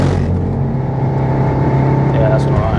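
A Stage 3 VW Golf R engine held at full throttle on a race track, a loud, steady droning roar with a rising tone near the end, under continuous talk from inside the car.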